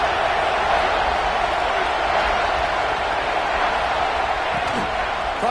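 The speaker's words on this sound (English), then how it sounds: "Man, this crowd really affecting the football game." A steady roar of a stadium crowd fills a College Football 26 video game, constant and loud throughout with no breaks, a dense wash of cheering noise.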